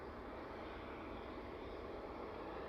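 An aircraft climbs out after takeoff at East Midlands Airport in the evening, a steady, broad jet engine roar heard from a distance, even and unbroken throughout.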